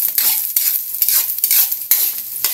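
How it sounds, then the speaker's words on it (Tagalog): Egg fries in a wok of leftover frying oil, a loud close sizzle that swells and fades with repeated stirring and scraping, no voices over it. "Tapos dito sa kawali, sa pinagprituhan din natin, nilagay ko na yung ating itlog."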